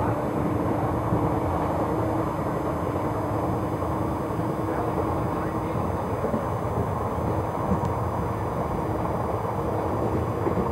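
A train running on the Tambaram–Chengalpattu line past Maraimalai Nagar station, a loud, continuous rumble and rattle of wheels and carriages heard from on board, with a faint steady tone running through it.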